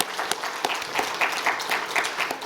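A church congregation claps in welcome for middle and high school students, a lively round of many hands with a few sharp, distinct claps standing out near the front, sustained throughout.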